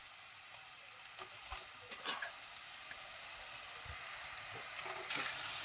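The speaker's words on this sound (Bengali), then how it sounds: "সয়াবিনটাও মশলার সঙ্গে খুব ভালোভাবে কষিয়ে নেব" Boiled soybean chunks frying with spices in oil for a soya and potato curry, giving a faint, steady sizzle with a few soft stirring knocks and a brighter hiss near the end.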